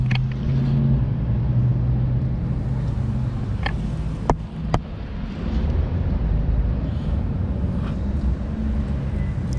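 A 2000s Sanyo 2-ton heat pump outdoor unit with a four-blade fan runs nearby, giving a steady low rumble and hum with a few brief clicks partway through.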